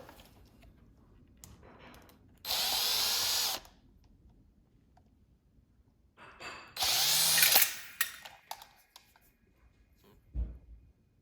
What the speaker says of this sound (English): I remove these last 2 screws.